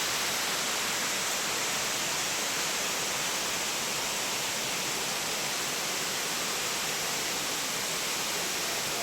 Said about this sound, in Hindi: इतना खूबसूरत है ये वाटरफॉल, आप विश्वास भी नहीं कर पाओगे